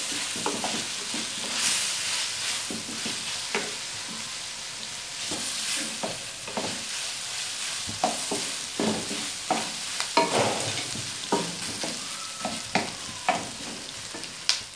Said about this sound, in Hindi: बस इसको इतना पकाना है कि प्याज थोड़ी सी सॉफ्ट हो जाए।